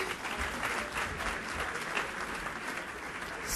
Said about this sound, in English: I think she deserves a super, super loud round of applause.